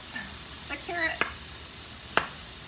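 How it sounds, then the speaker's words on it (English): Onion caramelizes in oil in a pan with a low sizzle, broken by a couple of brief stirring scrapes and a sharp clink near the end, close by and moderately loud. "the onion caramelizing in the oil"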